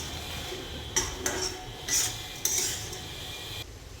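Goda masala spices stirred and roasted in a pan, a soft steady sizzle with a few brief scraping and clinking strokes of a spoon against the metal, close and fairly quiet, with no talk.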